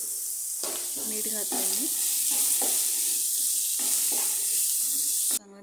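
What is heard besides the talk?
beans and capsicum roasting in a pan for egg fried rice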